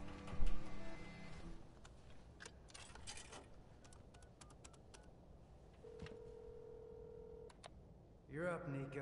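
Telephone dialing tones from a phone in a video game, a steady tone and short beeps sounding over background music and game effects, with no speech.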